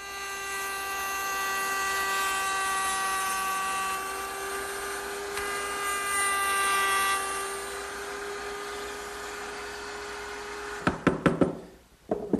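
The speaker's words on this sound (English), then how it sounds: "I'll remove that using the mortising bit in my router table" Router table fitted with a mortising bit cutting a wooden bead off a corner cupboard part: a steady loud high-pitched spinning whine for several seconds, then winding down with knocks and clatter at the end.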